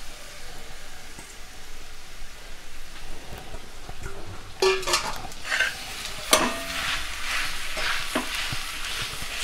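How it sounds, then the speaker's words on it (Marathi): Seeded, peeled soft dates being sautéed in ghee in a kadhai: a steady low sizzle builds as a spoon scrapes and stirs, with several sharper knocks and scrapes midway. "आता आपण जे हे खजूर सोलून घेतलेत त्यातल्या बिया काढून ते ह्याच्यामध्ये टाकून ह्याचा छान मऊ असा मावा बनसपर्यंत ह्याला परतून घेऊया"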